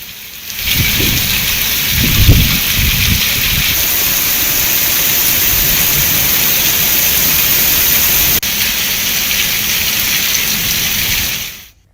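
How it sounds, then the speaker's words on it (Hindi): Steady heavy rain falls with wind across an open area, a dense continuous hiss with a few low rumbles early on, cutting off abruptly at the end. "हवाओं के साथ इलाके में बारिश हुई।"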